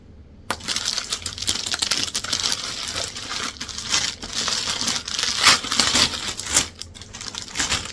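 Gift packaging for a Coach bucket bag being handled up close, with steady crinkling, rustling and tapping of paper and wrapping materials that run continuously and fairly loud, with no voices.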